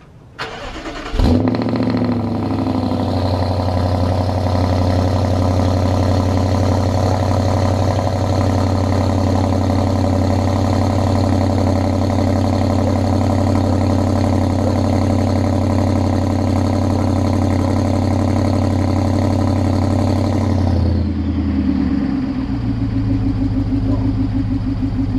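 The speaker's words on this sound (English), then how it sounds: "I'm gonna go ahead and turn on the truck, see how it sounds" A BMW X5 V8 engine with catless downpipes cranks and fires, then idles loudly with a deep, steady rumble for about twenty seconds before settling lower near the end.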